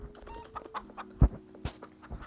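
Several video game chickens cluck and squawk in short, scattered bursts over a faint steady tone, with a louder sharp cluck near the middle.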